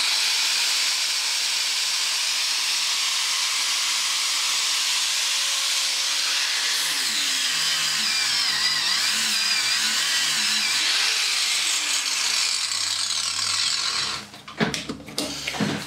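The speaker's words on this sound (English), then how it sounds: "A 600 watt angle grinder on a 600 watt inverter" A 600-watt angle grinder runs on a cheap 600-watt modified-sine-wave inverter while grinding on a bench, giving a continuous loud hissing whine that shifts pitch partway through before a burst of rough, uneven noise near the end.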